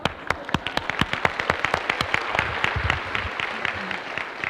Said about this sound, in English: A round of applause for these disruptors, please.